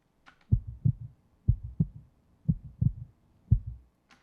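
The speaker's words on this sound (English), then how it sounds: "Back at the beginning, we have a heartbeat" Heartbeat sound effect opening a song, four evenly spaced lub-dub double thumps about a second apart, deep and soft, with faint higher ticks at the start and end and no voices.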